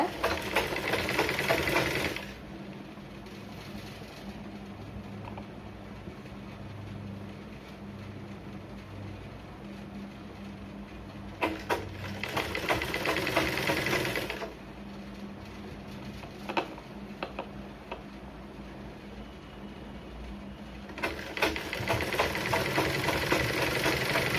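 A sewing machine stitches a blouse waist section in steady bursts of whirring, with pauses and quieter mechanical hum between runs.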